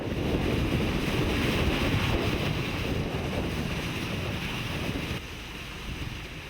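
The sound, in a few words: sea waves washing through rock crevices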